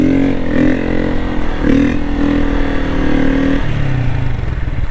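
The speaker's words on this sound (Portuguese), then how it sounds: "Dá só um grauzinho pra vocês verem o som dele no grau" A 2023 Honda Start motorcycle fitted with a Polimet exhaust without its filter revs loud and close during a wheelie, holding a raspy high-revving roar before the throttle drops off near the end.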